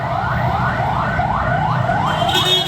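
A convoy of government ambulances from South Tangerang arrives in Indonesia with sirens wailing, a loud repeating rise-and-fall electronic wail over steady engine and road rumble, about six cycles in quick succession.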